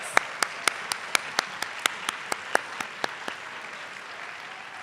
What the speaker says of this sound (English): All right, a round of applause for our presidential scholars.